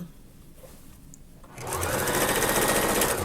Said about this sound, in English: I am sewing, trying to taper it so it's not too wide in the leg